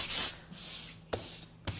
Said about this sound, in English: So what I'm doing here is just sanding the pore filler that's left on the surface.